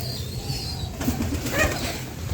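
Pigeons at a pigeon farm, soft cooing and a brief burst of wing flapping over faint outdoor background noise, moderately close and quiet.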